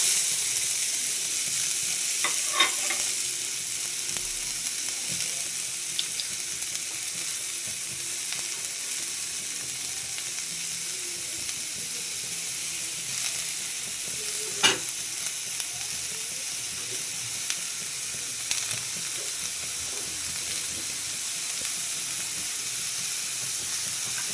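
Dried fish sizzling and frying in a pan with chopped onion, garlic and green chili, a steady close hiss with occasional stirring scrapes and pops, no talk.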